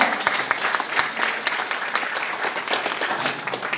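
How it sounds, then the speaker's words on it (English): An audience of leaders at a company gathering applauds first-time attendees, a continuous patter of many clapping hands, moderately loud and even across the room. "can we give them a round of applause?"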